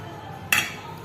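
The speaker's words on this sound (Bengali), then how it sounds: "বেগুন ভাজি হয়ে গেছে এখন একটা একটা করে নামিয়ে নিচ্ছি" A single short clink of metal utensil against a pan as fried eggplant slices are lifted out, one bright impact partway through in an otherwise quiet kitchen.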